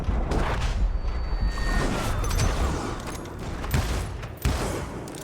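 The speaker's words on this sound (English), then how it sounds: "Robert Ollinger appeared with his terrible double-barrel shotgun." Double-barrel shotgun fire in the Western video game Call of Juarez Gunslinger, a dense barrage of repeated sharp gunshots and booms over a steady loud game background, with a few distinct blasts standing out.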